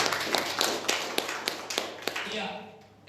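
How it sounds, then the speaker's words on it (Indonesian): Applause from an audience at a church service, a short burst of clapping with a few sharper claps standing out, fading toward the end, with voices mixed in. "Tepuk tangan lagi buat kita"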